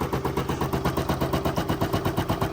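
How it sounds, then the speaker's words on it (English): A rapid, steady mechanical rattle of a machine stitching, about eight beats per second, close and continuous with a faint hum beneath. "I find the machine relaxing. I can hear the noise of it."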